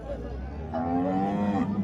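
A calf moos at a busy cattle market, a rising, drawn-out call close by, with crowd chatter in the background.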